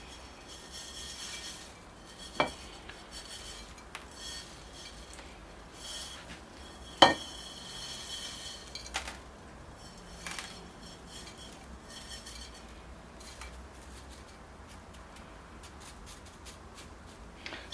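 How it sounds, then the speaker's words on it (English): Soil being poured and scraped into the pot of an inexpensive juniper bonsai during repotting, with soft granular rustling and a few sharp clinks of tools against the container, quiet and close with no voices. "So here I go with some soil in the pot."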